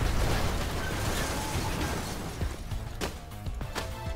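Destruction of a building in Red Faction: Guerrilla, with a heavy rumbling blast rolling into a long crumbling roar, then sharp debris cracks and clattering pops near the end, loud and continuous with no talk.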